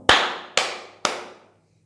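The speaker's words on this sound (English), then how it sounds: "So I'm going to clap now" Three single hand claps sound close to a phone microphone, evenly spaced about half a second apart, each sharp and crisp with a short decaying ring in a quiet room.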